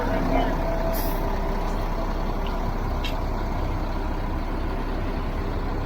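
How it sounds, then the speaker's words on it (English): A heavy truck idles and creeps into position at a driveway paving job, its low engine rumble steady and close throughout, with a brief hiss like an air brake near the start. "Last truck of the week."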